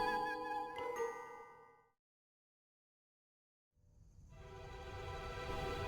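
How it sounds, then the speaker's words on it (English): Train sound effect in the video game Crimson Spires: a tonal horn-like blare fades into a gap of silence, then a rumbling train sound with chiming tones swells back in. "But we gotta talk about the choo-choo"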